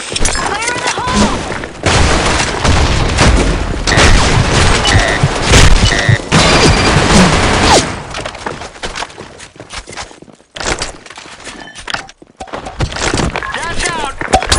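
Grenade explosions in a tactical shooter game set in a sandstorm: repeated loud booms and crackling gunfire bursts, dense and close, with player voices calling out over the din.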